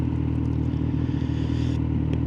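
Motorcycle engine droning steadily and close in hot city traffic, with another bike following behind; a continuous mechanical rumble with light clatter and no talking.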